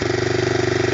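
A Honda 250SX engine idles with the choke partly on, a steady, even mid-pitched putter that runs unbroken and close throughout.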